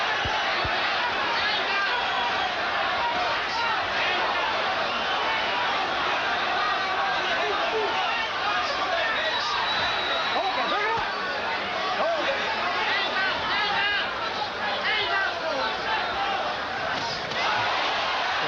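A boxing arena crowd chants for Boza Edwards during his bout with Hector Camacho, a dense continuous roar of voices and cheering that holds steady and loud throughout.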